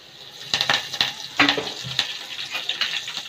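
Garlic and curry leaves sizzle with cumin in hot oil for a Konkani tikhat dal, a steady close hiss broken by a few sharp bursts and stirring clinks.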